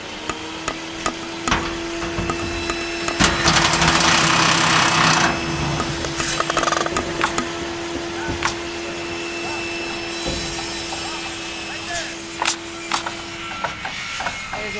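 Power tool whirring and ratcheting while undoing an 8mm screw under an FG Falcon ute tub, with a steady motor hum, a louder burst early on and scattered metallic clicks and knocks close by.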